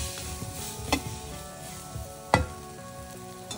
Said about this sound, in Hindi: एंड आई गेस ये एक मुट्ठी जितना बॉईल किया हुआ ब्लैक चना है। हम इसको मिक्स कर देते हैं।